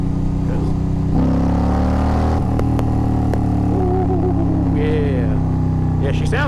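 A motorcycle engine revs up sharply, its pitch rising and holding as the revs climb, loud and close, with the rider talking over the engine.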